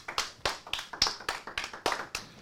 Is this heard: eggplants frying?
no